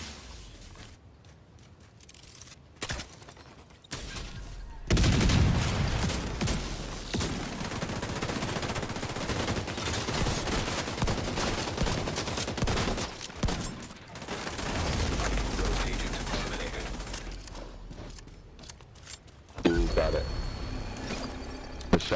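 Shotgun blasts in the video game The Division 2 mixed with a dense burst of rapid gunfire, loud sustained volleys between quieter stretches, with people talking over the action.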